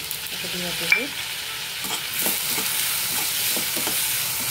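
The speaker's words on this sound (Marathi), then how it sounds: "मटार घालते मी," Peas tipped into a pot of vegetable pulao with tomato, setting off a steady, bright sizzle that builds after a brief clatter and continues evenly, close up with no voices.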